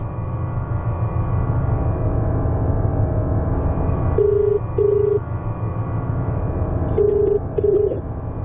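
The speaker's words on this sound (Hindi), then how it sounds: "विनय फोन नहीं उठा रहा।" A phone call being dialed that goes unanswered: a low background drone with two pairs of short, evenly spaced ringback tones.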